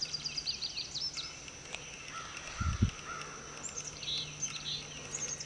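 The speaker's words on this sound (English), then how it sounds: "That's a cardinal." Birds call and chirp in a garden, including a northern cardinal, with repeated short whistled notes over steady outdoor background noise and a brief low thump near the middle.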